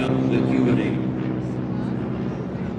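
Vintage warbird airplanes from the Tora Tora Tora routine drone steadily overhead at an air show, a continuous engine roar under a narrator's voice.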